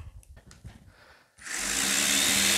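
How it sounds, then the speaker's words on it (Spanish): A hand-cranked generator drives an angle grinder, which spins up abruptly after quieter cranking and handling noise, then holds a loud, steady high-pitched whine to the end. "vamos a probar lo último, esta moladora, a ver si logra moverla"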